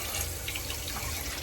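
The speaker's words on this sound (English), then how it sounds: "I've had this tap water running for a little bit" Tap water running steadily into a kitchen sink while a coffee mug is warmed, a continuous close rushing splash with no talk over it.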